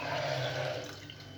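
Water is poured steadily into cups to measure the syrup for basbousa, a short, continuous splashing stream close by with no voices.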